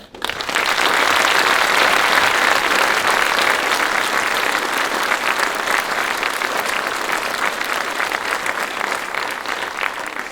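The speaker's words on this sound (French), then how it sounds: "d'accompagner le chœur des enfants des CM1, CM2 de Rispac et de Hirzingue, et une partie des élèves du collège d'Hirzingue, qu'on peut applaudir dès maintenant" A concert audience gives a children's choir sustained, loud, dense applause that runs unbroken for about ten seconds with no talking.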